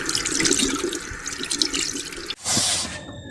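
Tap water running into a sink while hands are washed after a meal, splashing and dripping steadily close by, then briefly cutting out before a louder gush resumes and stops.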